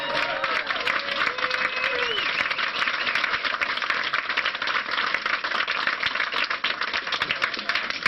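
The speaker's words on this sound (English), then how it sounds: "give him a round of applause" An audience at Brave New Books in Texas applauds Jim Marrs with steady, dense clapping that fills the whole stretch, with a few voices calling out over it.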